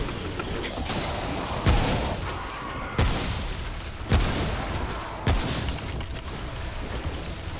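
A shotgun fires in the video game Remnant: From the Ashes, with four loud, booming blasts spaced roughly a second apart over a continuous rumbling background.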